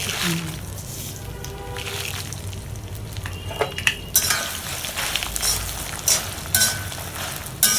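Mustard and fenugreek seeds roast in an iron kadai with a low crackling hiss, broken by intermittent scrapes and clinks of a spoon against the metal.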